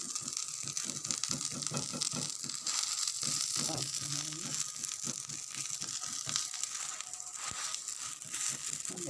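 A flatbread stuffed with suet and vegetable filling fries in a pan, giving a steady close sizzle under a series of soft irregular crackles and taps.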